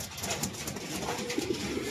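Soft, low cooing of a racing pigeon close by, a couple of brief murmured calls over steady background noise.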